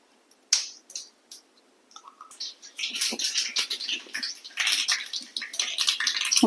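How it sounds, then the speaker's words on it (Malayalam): Half a teaspoon of mustard seeds crackle and pop in hot coconut oil, starting with scattered snaps and building into a dense, continuous spluttering. "അര ടീസ്പൂൺ കടുക് ഇട്ട് കൊടുക്കുക"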